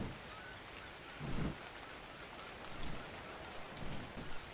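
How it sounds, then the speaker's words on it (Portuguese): Steady rain hisses across the scene in ARK Survival Evolved, with a few low rumbling swells like distant thunder, moderately quiet and without speech. "Uma pena que não esteja um dia bonito de sol, mas daqui um pouquinho deve parar essa chuva."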